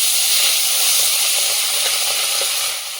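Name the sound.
bhola fish frying in very hot oil over a wood fire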